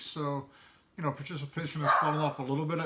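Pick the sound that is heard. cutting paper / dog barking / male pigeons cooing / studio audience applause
dog barking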